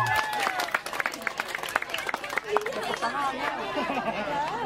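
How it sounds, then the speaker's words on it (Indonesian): Audience applause at a village awards announcement for third place, scattered claps mixed with loud crowd chatter and voices throughout, fairly close. "Tepuk tangan."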